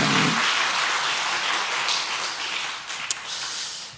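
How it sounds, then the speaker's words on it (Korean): A church congregation applauding at a Christmas service: a steady, full wash of clapping that fades slightly toward the end, with no talk over it. "영광의 박수 올립시다"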